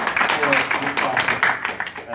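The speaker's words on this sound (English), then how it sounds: "One more again, a round of applause for our candidates." An audience applauds the candidates at a mayoral debate in Seattle, a dense wash of clapping that carries steadily, with speech mixed in.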